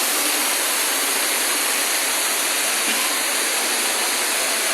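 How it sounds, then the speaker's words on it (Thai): Steady broadband roar of a waterfall at a scenic spot, loud and continuous for the whole stretch, with no voices over the rushing water. "น้ำตกนะครับ"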